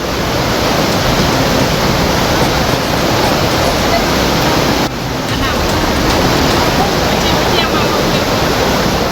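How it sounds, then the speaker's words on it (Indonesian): Floodwater of the overflowing Batang Kuranji river in Padang, West Sumatra, rushing during a flash flood: a loud, dense, unbroken roar of churning water, close and constant, with one brief dip midway. "banjir bandang kembali menerjang kawasan Batu Buswak, Kecamatan Pauh, Kota Padang, Sumatera Barat"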